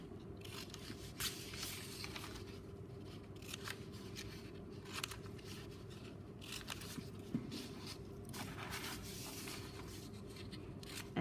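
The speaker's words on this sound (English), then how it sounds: "So I'm cutting these diagonal cuts to free these pieces" Scissors snipping diagonal cuts through paper up close, a series of crisp rhythmic shearing crunches and rustles repeating every second or so, with no talking.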